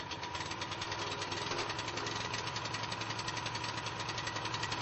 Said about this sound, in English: When the engine starts, open the throttle and allow the engine to reach full speed.